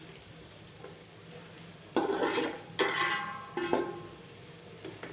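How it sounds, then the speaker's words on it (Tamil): Onions fry in a pot for biryani, with a soft constant sizzle broken by three or four scraping turns of a spoon or ladle against the metal, heard up close. "ரொம்ப போட்டு வெங்காயத்தை கிண்டக்கூடாதுங்க, சும்மா இப்படி ஒரு திருப்பு அப்படி ஒரு திருப்பு"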